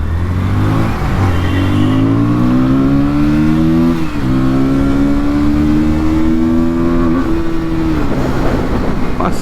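A 2025 KTM Duke 160 motorcycle accelerates hard, its loud engine whine climbing in pitch through several gear changes with brief dips between them, heard up close.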